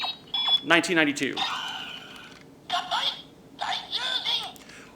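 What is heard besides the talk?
Mobirates toy playing the Daijujin sound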